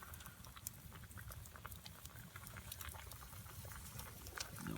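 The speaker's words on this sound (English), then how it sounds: "You can see it's just simmering away slowly from the fire." Sweet and sour meatballs simmer slowly in a pot beside a campfire in freezing weather, giving a faint, continuous bubbling with small pops and crackles.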